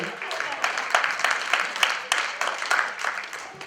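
Audience applause at the announcement of a Woman of the Year 2016 award, heard as separate rhythmic claps at a moderate level with voices mixed in underneath.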